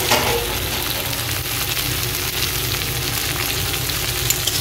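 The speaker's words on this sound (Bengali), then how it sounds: "এটাকে এবার আমি ভালো করে ভাজা করে নিচ্ছি একসঙ্গে করে।" Dried fish and chopped tomato fry together in a pan with a constant, dense sizzle that holds at an even level, close up with no voices.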